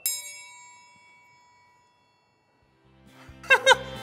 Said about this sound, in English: Should I play the triangle?